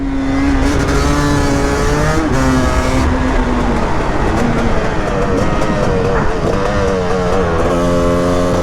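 A two-stroke 300 supermoto motorcycle engine buzzes and wails nearby, revving up and down through gear changes, loud and continuous.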